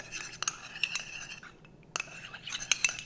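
A spoon stirring thickener into water in a small dish while cooking beef with broccoli: light metallic clinks and scraping taps in quick, irregular bursts, close and fairly quiet.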